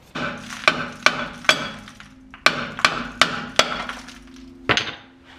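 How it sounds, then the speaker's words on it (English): A hammer strikes the hat of a brake rotor on a 2012 Mazda 3 to knock it loose, about ten sharp metallic clanks in uneven groups, close and alone. "just the hat of the rotor right here and try and knock it loose"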